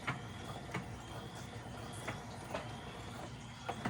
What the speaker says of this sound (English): we'll go ahead and lock stitch this